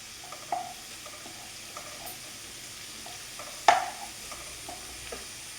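Chopped onions sizzling softly in a pan with cumin added for a capsicum thoran, a quiet frying hiss broken by a few sharp stirring clinks.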